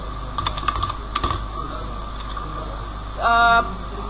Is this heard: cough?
no